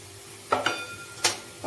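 Moong dal with cream and milk is roasted in a pan for halwa, heard as two or three brief scraping stirs of a spoon against the pan over a quiet background.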